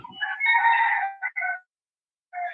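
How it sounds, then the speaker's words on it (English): Backyard chickens crowing loudly and close, with a long rooster call followed by shorter clucking bursts and a brief pause before another call. "there's our chickens"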